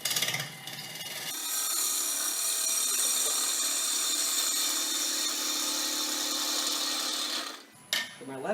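A lathe gouge roughs a wooden bowl blank cut from a log, giving a loud, steady broadband shearing roar that holds for about six seconds after a brief start, then stops abruptly with a short tool knock near the end.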